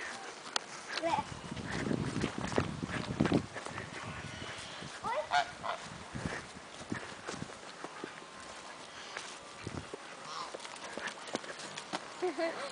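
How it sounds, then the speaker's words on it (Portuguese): Geese honk repeatedly at close range amid scuffling footsteps and movement, with short bursts of activity early on and quieter stretches later. "vamos lá correr atrás dos gansos então"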